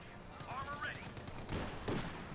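Machine-gun bursts in the World War II strategy game Company of Heroes 2 rattle in the background while a commentator talks over the match, the shots brief and partly masked by his voice.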